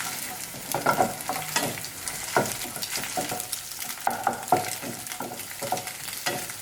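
Eggs being scrambled with salt and pepper in a pan for restaurant-style chicken fried rice, with a steady sizzle and repeated stirring scrapes throughout, close and fairly loud, no talking.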